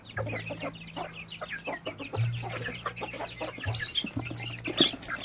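Chickens clucking close by on a farm, a run of repeated throaty clucks and squawks layered over a low steady background hum, fairly loud and continuous.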